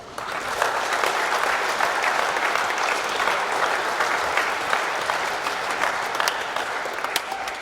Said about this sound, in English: Once again, please, round of applause.